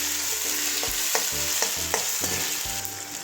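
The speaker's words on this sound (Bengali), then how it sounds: "এবারে এটাও কাঁচা গন্ধ যাওয়া পর্যন্ত ভেজে নেব।" Onion with ginger garlic paste fries in a pan, a constant hiss of sizzling under a handful of scraping stirs from a spatula, close and fairly loud, with no talking.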